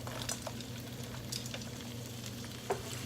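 Celery going into a hot pan for yellow curry crab, giving a steady low sizzle with a few soft clicks and stirring taps, close and fairly quiet, no talking.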